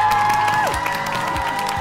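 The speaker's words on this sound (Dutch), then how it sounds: "Nog eens een groot applaus voor Steffi!" A studio audience at a TikTok dance competition show claps and cheers steadily for a couple of seconds, with music tones sliding beneath the applause.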